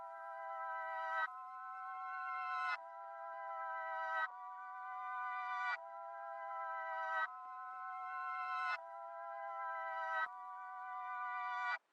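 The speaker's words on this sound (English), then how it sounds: "I had this organ, and I just rendered it out and reversed it, then just chopped it up together, pitched it up by 12" A reversed organ sample pitched up an octave, chopped into eight repeating sustained chords about 1.5 seconds each, every one swelling louder before cutting off sharply in a backwards-sounding pulse.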